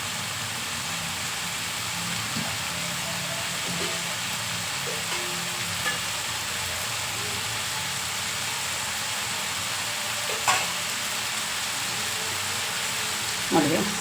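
A bachelor-style vegetable palya cooks in a pan after water is poured in, giving a soft, steady sizzle and bubbling with faint stirring clinks, quiet throughout with occasional speech.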